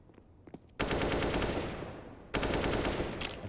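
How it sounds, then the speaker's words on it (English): Counter-Strike: Global Offensive gunfire during a professional match on the Nuke map, heard as two loud, dense bursts of rapid automatic fire, the first running about a second and a half and the second following after a short break. "Bullets through, doing a bit of damage."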